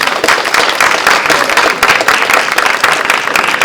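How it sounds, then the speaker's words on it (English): Summit audience applauding a speaker at an AI conference, dense steady clapping from a large crowd that fills the whole stretch at strong volume. "Okay, we're going to give Neil another round of applause, please."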